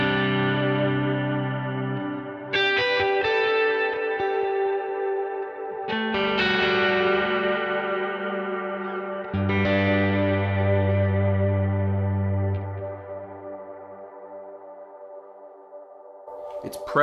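An electric guitar run through a long, big cloud reverb on a Kemper Profiler rings out in sustained chords, each strum blooming into a wide, washy tail that swells and lingers before fading, with no talking.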